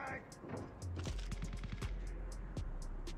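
Gun firing in the video game Call of Duty Mobile: rapid automatic shots in quick regular bursts, close and punchy, with a person talking over the fire.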